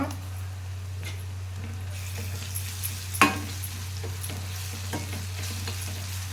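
Fish frying in peanut oil with a spoonful of ginger-garlic paste, a steady soft sizzle with stirring scrapes and one sharp clink near the middle, under a constant low electrical hum.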